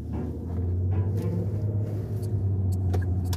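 A car drives along with a steady, loud low engine rumble and road noise, a continuous close interior drone throughout.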